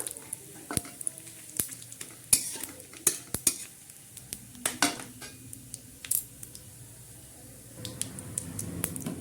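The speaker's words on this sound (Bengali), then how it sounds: "জিরেটা একটু লাল লাল হয়ে গেছে তারপর দিয়ে দেব শুক্তো লঙ্কা তেজপাতা" Cumin, dried red chili and bay leaf fry in oil for a restaurant-style dal tadka, giving a soft sizzle under sharp spoon clinks and scrapes against the pan, quiet and close, with no talking.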